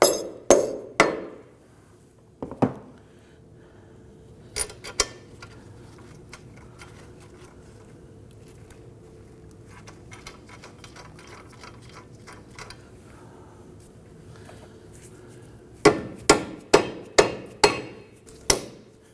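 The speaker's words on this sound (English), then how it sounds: "Tap this up with our mallet." Mallet taps on the CV axle shield of a 2008-2011 Ford Focus during a front left axle replacement: sharp metallic knocks in clusters, a few at the start, scattered single hits mid-way, then a rapid run of five or six near the end.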